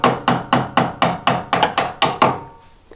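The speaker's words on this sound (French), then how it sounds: "Vous pouvez aussi utiliser un manche de tournevis un peu lourd" Sharp, evenly spaced knocks from a heavy screwdriver handle tapping a shock absorber axle into place on a Zanussi washing machine: about ten close, loud raps in quick succession, then a fading ring.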